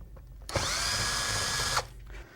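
A power drill whirs steadily for just over a second, backing out Allen screws from the bottom end cap of a 2-inch pressure reaction chamber, starting and stopping abruptly, close and clear in a quiet room.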